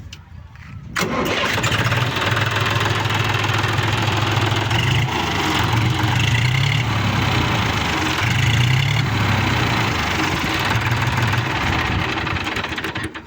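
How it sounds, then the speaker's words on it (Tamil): A John Deere two-wheel-drive tractor's diesel engine cranks and catches, then settles into a loud, steady knocking idle, close by, with no talk over it. "ஸ்டார்ட் பண்ணி காட்டுறேன் வண்டி பாருங்கள் இன்ஜின் சவுண்டை பாருங்கள்"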